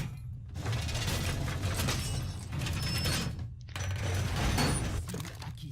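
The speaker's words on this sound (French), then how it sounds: "Ça défonce la barricade en face, la grande." Loud, continuous crashing and splintering with grinding mechanical rattles as a large barricade is smashed in Rainbow Six, broken by a brief pause before the destruction resumes.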